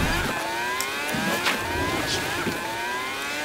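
Car engine in Fortnite driving along, a steady revving drone with rising and falling pitch and some wind rush, continuous for a few seconds.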